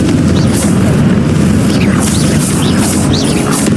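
Confringo blasting spells explode repeatedly in the Hogwarts Legacy video game, a dense, loud rumble of booms layered with bright whooshing bursts that recur every half second or so throughout.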